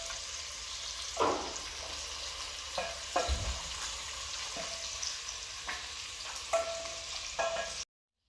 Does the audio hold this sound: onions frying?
yes